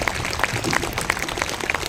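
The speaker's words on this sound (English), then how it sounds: "Give him a big round of applause, please." Applause from an audience at a school Republic Day celebration, dense steady clapping with scattered sharper claps throughout, moderately loud and continuous.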